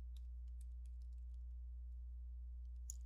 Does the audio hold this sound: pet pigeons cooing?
no